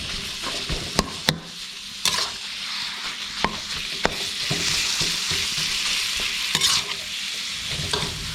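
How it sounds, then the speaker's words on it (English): Pork larb stir-fried in oil in a wok: a steady loud sizzle with repeated sharp scraping clicks of the spatula against the pan, with no voices. "Now we cook it again out in the wok."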